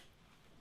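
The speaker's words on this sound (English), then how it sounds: "Tighten that up until we get the click." A torque wrench gives a single sharp click as it reaches 25 newton meters while tightening during an oil and filter change on a 2013 Citroen C4 Grand Picasso 1.6 HDi diesel, a short bright snap after near silence.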